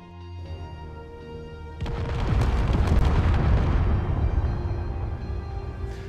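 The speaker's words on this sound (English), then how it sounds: "Big explosion!" A big explosion in the video game Space Engineers, with new GPU particle effects: a sudden loud deep boom bursting out after a quieter stretch, then a long rumbling roar with crackling debris that slowly fades.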